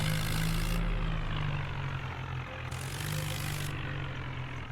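A Swaraj tractor's engine drones steadily while the tractor is being turned, a loud, even, low rumble with no talking.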